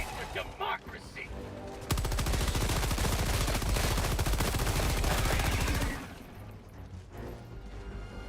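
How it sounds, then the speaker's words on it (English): Sustained rapid gunfire from weapons in the video game Helldivers 2 rattles loudly and continuously for about four seconds, preceded and followed by quieter in-game sounds and brief voices. "gunfire does alert other bugs or other enemies to your location"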